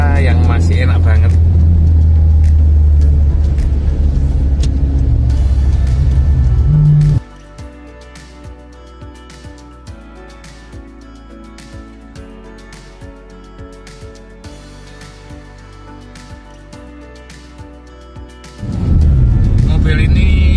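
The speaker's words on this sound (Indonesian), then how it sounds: "Kita jalan-jalan sore sambil menikmati mobil era 90-an Suzuki Baleno" Engine rumble and road noise from inside a moving 1997 Suzuki Baleno, loud at the start and end with a quieter stretch of light ticks and clicks in between.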